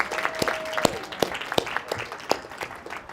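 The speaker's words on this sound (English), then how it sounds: "let's give a big round of applause for Tara" A small audience claps to welcome a yoga teacher and author, with sparse, distinct, fairly close handclaps in an uneven rhythm and a faint tone and murmur underneath.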